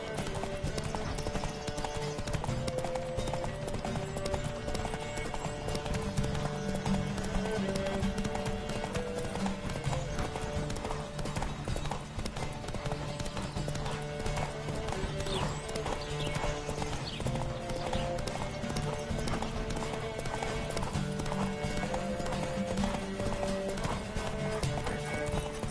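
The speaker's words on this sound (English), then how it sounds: "Don't spare the horse!" A horse in The Witcher 3 video game gallops nonstop, its hooves pounding in a rapid rhythmic beat over steady background music, with an occasional whinny.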